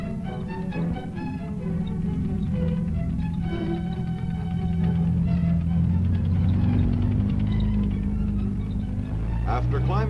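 T-48 tank rumbling over a washboard test-track road after climbing a 60% slope, a continuous heavy engine and track roar heard under a narrator's voice throughout.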